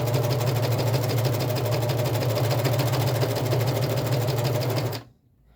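A sewing machine with two needles runs steadily and loudly, stitching layered fabric for a phone pocket, with a strong low motor hum and rapid needle chatter that continues evenly, then stops abruptly near the end.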